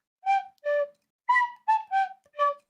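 A theme played on a tin whistle, six clear, bright whistled notes in short phrases with brief gaps, close and unaccompanied against a silent background.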